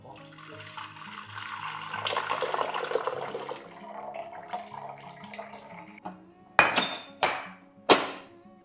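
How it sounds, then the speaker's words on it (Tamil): Water pours into the removable tank of an AGARO espresso machine, a steady running trickle for several seconds, followed by a few sharp plastic clicks and knocks as the tank is refitted. "இந்த டேங்கை நம்ம ரிமூவ் பண்ணி இதில் தனியாக வாட்டர் ஃபில் பண்ணி அதுக்கப்புறம் கூட இப்படி மாட்டிக்கலாம்"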